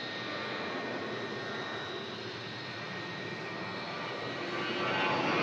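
A Jet2 Boeing 757 with a hydraulic fault moves slowly back across Manchester Airport after an emergency landing, under tow. A steady, loud jet engine drone fills the whole stretch and swells slightly at the end, with no voices.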